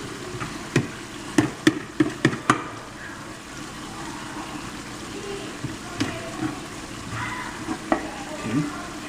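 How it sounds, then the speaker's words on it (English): Chopped vegetables are stirred in steak juices in a pan: a soft sizzle runs underneath, and a series of sharp spoon taps and scrapes comes in a quick cluster early, then scattered clinks later. "add in the fluids from the steak to the vegetables and then give it a good stir in that juice"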